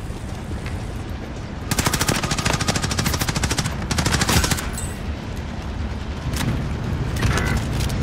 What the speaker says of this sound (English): What the fuck is shooting?